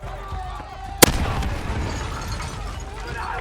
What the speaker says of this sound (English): a ton of vehicles are violently exploding